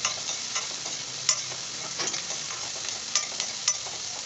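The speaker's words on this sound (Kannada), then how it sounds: "ಈರುಳ್ಳಿನೂ ಕೂಡ ಸ್ವಲ್ಪ ಚೆನ್ನಾಗಿ ಕ್ರಿಸ್ಪಿ ಆಗೋ ಥರ ಚೆನ್ನಾಗಿ ಫ್ರೈ ಮಾಡ್ಕೊತಾ ಇದ್ದೀನಿ" Chopped onion with cumin fries in a pan, giving a continuous close sizzle broken by sharp spatula scrapes and clicks at irregular intervals.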